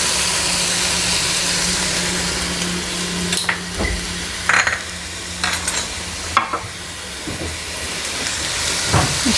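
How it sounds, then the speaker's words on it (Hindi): Chicken added to hot oil in a pan for chicken macaroni, giving a steady sizzle and frying hiss with a few stirring scrapes and clinks near the middle, close up and without talk. "अभी हम इसमें चिकन डालेंगे।"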